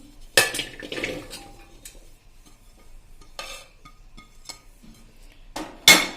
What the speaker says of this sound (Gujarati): હવે એને આપણે એક સ્ટીલના વાસણમાં લઈ લેશું